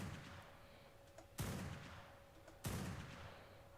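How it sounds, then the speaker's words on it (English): Two sharp, isolated gunshots ring out about a second apart in Ark: Primal Fear, each a hard crack with a long fading tail over a quiet background hum. "Those were actually some good headshots."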